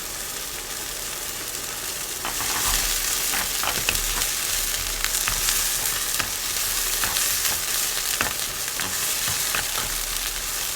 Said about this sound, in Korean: 이렇게 좀 볶아서 스며들게 하다가